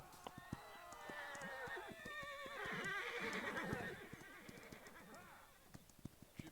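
A horse neighing in a loud, drawn-out whinny that rises and falls over several seconds, with clip-clop of hooves and other knocks around it, fairly close.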